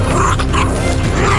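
A stray dog on a street in Kochi gives a few loud, close, yelping barks and whimpers over a constant background rumble.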